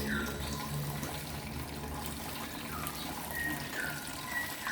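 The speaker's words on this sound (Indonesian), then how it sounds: "ini juga batang-batangnya juga kalian siram di batang-batangnya" Water splashes and trickles steadily over the stems of a freshly repotted Aglaonema in a larger pot, a continuous close wash with no talking.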